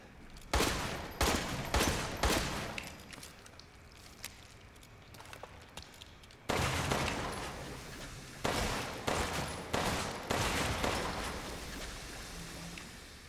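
Gunshots in the video game Resident Evil Village, fired as single loud reports at a steady, spaced rhythm, each one decaying with a ringing tail, in two runs split by a brief quieter lull.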